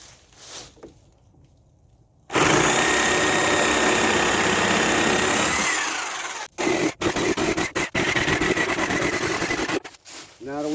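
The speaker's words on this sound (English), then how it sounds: "We're going to take our Sawzall and we're going to cut these pickets off right even at the bottom of our 2x4" A Sawzall reciprocating saw cuts through wooden deck pickets level with the bottom of a 2x4, giving a loud, sustained buzzing rasp. The cut comes in steady runs that break off abruptly several times, with short gaps between bursts.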